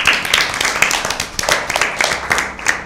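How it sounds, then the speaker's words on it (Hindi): An audience at a Lent season Bible quiz claps for a team, with brisk, fairly close clapping from a small group, individual claps distinct, steady for about three seconds. "टीम बी के लिए तालियां"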